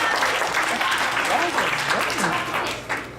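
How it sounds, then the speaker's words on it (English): An audience at an opening speech claps steadily, a dense, fairly loud wash of applause with a few voices mixed in, tapering slightly near the end. "Let's clap for that girl"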